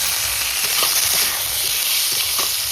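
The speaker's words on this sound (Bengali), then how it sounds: "টমেটো কুচি দিয়ে দিচ্ছি লঙ্কা কুচি আর আদা কুচি" Chopped tomato, chili and ginger sizzle in a frying pan, a steady close hiss and crackle with soft stirring scrapes throughout.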